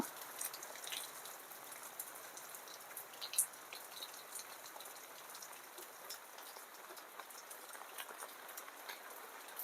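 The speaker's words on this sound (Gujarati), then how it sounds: "એવો વરસાદ ચાલુ હોય અટાણે ફૂલ" Steady moderate rain patters on surfaces outdoors, a continuous even hiss with scattered drop hits and one brief louder tap, no voices.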